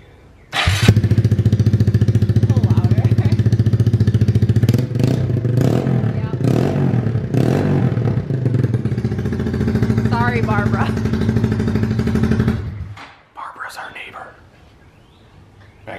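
A 2020 Honda Grom motorcycle with an aftermarket exhaust idles loud and close for about twelve seconds, blipped with several throttle revs midway, before cutting off; faint talk follows.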